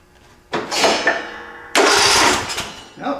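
The engine of a 2007 John Deere LA105 lawn tractor cranks in two bursts, the second briefly catching and sputtering, close and loud with short pauses between attempts.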